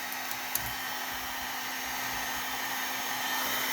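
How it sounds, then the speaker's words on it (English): A heat gun blows a steady, even hiss of hot air close by onto waxed leather work gloves, with a faint electrical hum and no pauses. "these heat guns get pretty hot"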